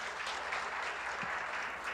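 A church congregation applauds God in steady, dense, continuous clapping that fills the space at a constant level from start to finish.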